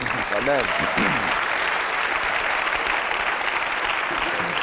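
Audience applause during a comedy show encore, a steady, dense wash of clapping filling the hall, with a speaking voice briefly heard over it at the start.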